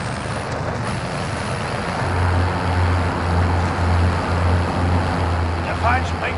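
A vehicle drives in Call of Duty Warzone. A loud, steady engine drone rumbles alongside rushing wind or water-like noise, and voices speak over the sound.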